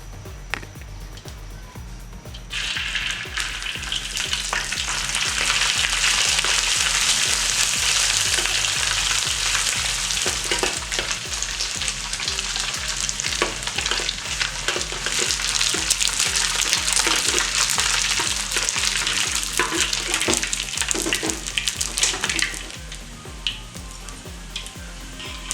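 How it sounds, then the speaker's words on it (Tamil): Anchovies deep-frying in oil for Malaysian sambal nasi lemak, a loud steady sizzle and crackle that flares up after a quiet start and holds strong throughout with scattered pops, no talking. "இப்போ நம்ம இதை பொரிக்க போகிறோம்."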